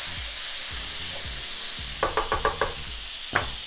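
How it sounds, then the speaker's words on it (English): Butter melting in a hot pan for a honey garlic sauce, giving a steady soft sizzle with a few brief clicks and taps of utensils near the end. "we're gonna add some butter. Allow this butter to melt."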